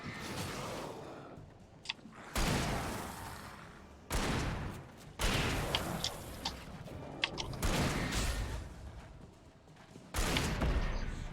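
Gunfire in the video game Alan Wake, with loud, dense bursts of shots arriving in several separate clusters over a dark, tense ambient backdrop, and no talking.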